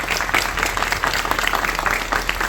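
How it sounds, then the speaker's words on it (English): A crowd in historic Warrenton applauds at an event honoring Lafayette's visit, dense steady clapping filling the whole stretch at close range. "Let's give everybody a round of applause"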